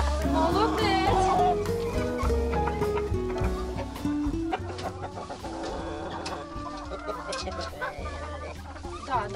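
A black Cochin rooster and a flock of hens cluck and call loudly and close by in a farmyard, with overlapping squawks and chatter throughout and a person's voice among them.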